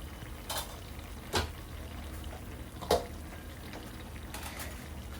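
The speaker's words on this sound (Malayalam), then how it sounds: "നമ്മുടെ ചിക്കൻ കറി തിളച്ച് വന്നിട്ടുണ്ട്." Chicken curry for a traditional Kerala Christian pidiyum kozhiyum dish bubbles in a pot on medium flame, a steady soft sizzling simmer broken by a few brief utensil clinks against the pot.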